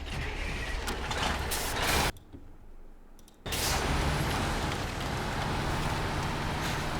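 A truck in SnowRunner, hauling bricks in Maine, rumbles with a steady engine drone, cuts out briefly, then roars back as the air brake releases, with faint beeps over the continuous mechanical noise.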